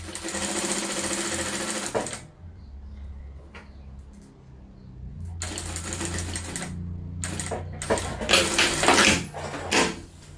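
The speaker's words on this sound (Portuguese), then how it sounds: "Então a gente vai fazer um pezinho de máquina. Bem certinho, com retrocesso." A sewing machine stitches a seam on a double-sided patchwork fabric bag, running in loud steady bursts with brief pauses between them as it sews forward and backstitches.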